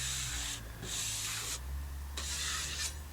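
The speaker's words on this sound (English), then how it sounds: "we're going to give it a scrape, clean off any high bits" Dried plaster filler scraped off a plasterboard wall patch, three broad rasping strokes with brief pauses between, close and fairly loud over a low steady hum.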